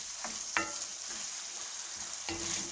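Chunky ground beef frying in a pan for Korean sloppy joes, a constant close sizzle broken by a few scraping stirs of the spoon.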